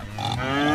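Pigs grunt in the video game Cities Skylines, a steady, close, snorting grunt that builds slightly in loudness over a quiet farm background.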